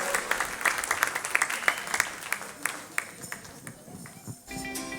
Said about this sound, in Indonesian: Boleh kasih tepuk tangan yang meriah untuk Joyful Kids.